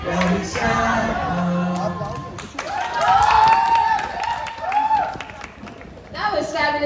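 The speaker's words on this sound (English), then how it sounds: "Give him a huge round of applause." Audience applause and cheering at a regional round of a coffee championship in India, a dense crowd sound with scattered whoops, heard mixed with other voices.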